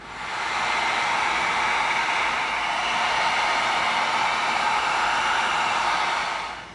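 A heat gun blows a steady, loud hiss that runs without a break while it heat-seals an EVA foam pickaxe.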